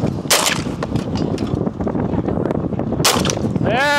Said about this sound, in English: when you shoot it, as soon as the gun goes off